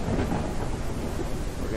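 Thunderstorm in the game Ranch Simulator: a steady, loud wash of rumbling thunder and heavy rain fills the whole stretch, dense and continuous with no talking over it.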